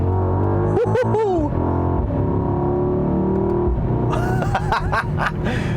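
A 2021 Mercedes-AMG GLE 63 S SUV engine revs up with rising, harmonic tones as it accelerates hard, interrupted by brief quick paddle gear shifts and some voice-like sounds.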